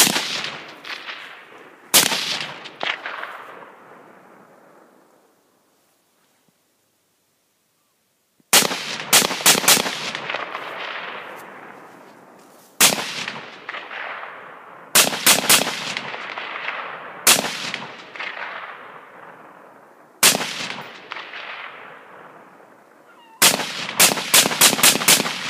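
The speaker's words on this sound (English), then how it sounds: "Got some rounds down range there." Gunfire aimed at a floating buoy: loud, sharp shots in separate bursts of one to several rounds, each ringing out with a long echoing decay, a short silent gap in between.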